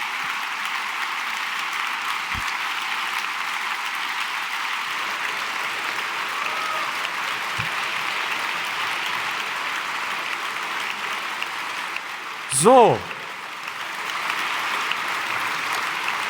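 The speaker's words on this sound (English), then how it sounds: "That is a well-justified applause." Steady applause from a conference audience after a talk at re:publica 2022, even and sustained for many seconds at moderate distance, with one brief spoken word and a short squeak partway through.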